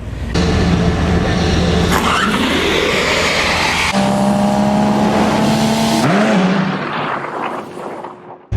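Loud, roaring engine noise from powerful cars, including a Whipple-supercharged Dodge Challenger Hellcat, at the Bradenton Motorsports Park drag strip, with revving and rising gear-change sweeps, fading out toward the end.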